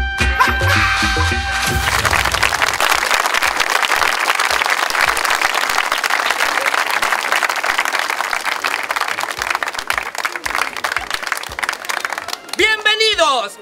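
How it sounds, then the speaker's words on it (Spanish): A television comedy show's studio audience bursts into sustained, dense applause after a short musical opening, clapping steadily for several seconds before music returns at the end. "¡Los aplausos!"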